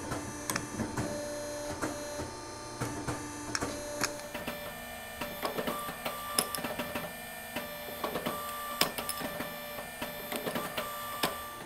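Holes are made in aluminum caster mounts for a go-kart stand, producing a steady run of sharp mechanical clicks and knocks over a constant machine hum, close and moderately loud, with no talking.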